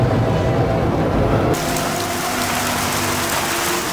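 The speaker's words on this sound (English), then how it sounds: "Oh great, great, started to rain." Rain in the F1 Challenge racing game at Zandvoort: a steady wash of hiss that shifts abruptly in tone partway through, loud and continuous over low engine-like rumble.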